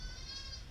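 A short, faint bleat from an Alpine-Czech dairy goat, heard alone against a low steady background hum.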